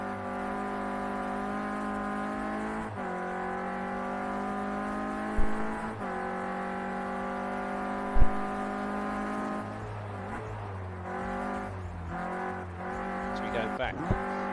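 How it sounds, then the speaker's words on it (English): Clio Cup race cars in a sim racing game at Oulton Park: a steady high engine whine with shifting pitch, a few gear changes and bumps, under continuous commentary. "Ed Whitehouse, the university student, comes into the last corner."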